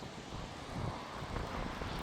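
Storm wind with strong gusts roars outdoors in Isère, a low, rumbling, steady rush that swells slightly, fairly quiet, with no talking.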